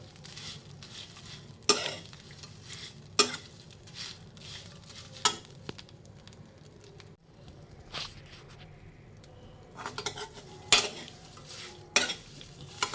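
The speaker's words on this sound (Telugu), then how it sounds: "ఇందులో వేసుకుని స్లోలో పెట్టుకుని కదుపుతూ ఉండాలి వేగే వరకు" Dried shrimp shells roasting in a pan over low heat for chili powder, stirred with a utensil: faint sizzling under intermittent sharp scraping and clinking strokes spaced a second or two apart.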